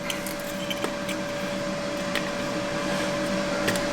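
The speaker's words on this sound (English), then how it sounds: "put them right here in the grinder. I like my coffee strong" Electric coffee grinder grinding beans, a steady, fairly quiet whirring hum with a thin tone and faint scattered clicks, heard alone.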